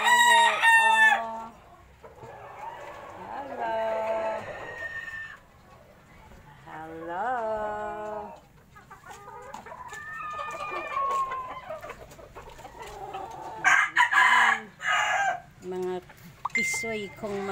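Several rooster crows and hen clucks ring out close by in a small rooftop chicken coop on a third floor, mixed with someone talking intermittently and bursts of excited cackling.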